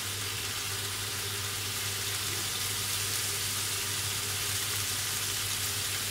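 Chicken sizzling in olive oil in a pan, a steady broadband crackle and hiss that holds evenly throughout with no voices.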